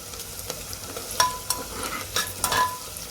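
Spices for spicy Kolhapuri-style mutton stirred and fried in a pan with turmeric, giving a steady low sizzle broken by several sharp scraping stirs, close up with no talking.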